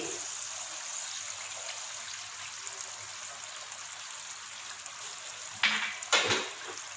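Yogurt added to mutton keema cooking in a pan gives a steady, soft frying sizzle with a faint watery hiss, then two brief louder clatters near the end, no one talking.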